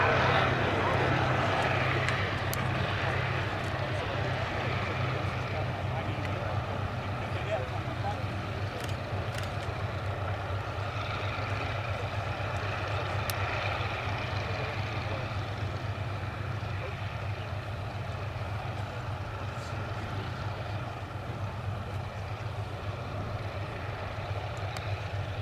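Two Westland Lysander aircraft taking off at the Duxford Battle of Britain Airshow 2023, a steady distant propeller-engine drone under a public-address commentator talking.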